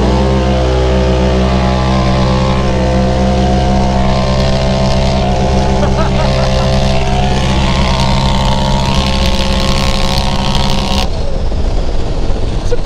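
A side-by-side UTV with its air filter removed pulls away at full throttle, the loud engine drone holding steady and near before rising briefly in pitch, with no talk over it.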